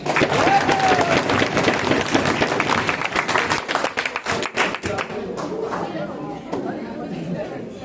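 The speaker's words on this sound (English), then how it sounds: "can we have a round of applause for all of the teachers who are present here?" An audience claps for teachers at a class 10 farewell function, sustained applause and cheering from a crowd indoors, with chatter and voices mixed in and a whistle-like tone early on.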